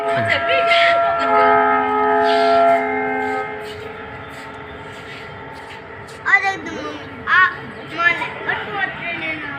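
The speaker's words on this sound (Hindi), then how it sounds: "इस प्रकार से ये पूरा भगत की कोठी बहुत बड़ा स्टेशन है।" Train at Bhagat ki Kothi railway station in Jodhpur, a long sustained horn blast ringing out loudly for a few seconds, followed by quieter rumble and bursts of nearby chatter and voices.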